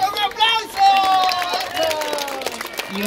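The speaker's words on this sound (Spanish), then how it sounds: "¡Eso, un aplauso!" Applause and cheering from an audience at a folk song performance by women singers in El Tambo, Catamayo, rising in bursts over a sustained sung melody and crowd noise.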